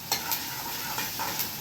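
Onion, tomato, chili, cumin, mustard seeds and asafoetida sizzle and fry in a hot tempering, a steady close crackle with a few brief louder spatters throughout.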